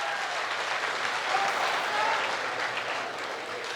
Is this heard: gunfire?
no